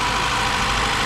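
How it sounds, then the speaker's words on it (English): A 1973 VAZ 2102 Soviet car engine idles with a loud, steady, close-up drone and constant low rumble, no voices over it. "Let's check out the engine."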